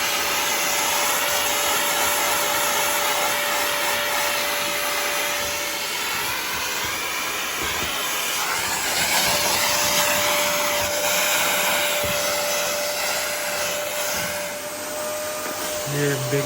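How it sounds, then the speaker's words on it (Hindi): A vacuum cleaner runs loudly and continuously while a room is cleaned after a bed has been moved aside, its steady whine and roar filling the whole stretch with small shifts as the nozzle moves. "इन्होंने पहले पूरा बेड हटाया, पीछे सारा वैक्यूम किया"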